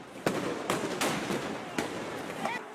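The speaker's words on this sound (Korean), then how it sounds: "바리케이트 근처에 다다르자 사방에서 총성이 울리고" Gunshots at a street protest near a barricade in Yangon, Myanmar: several sharp cracks at irregular intervals over loud crowd noise and voices.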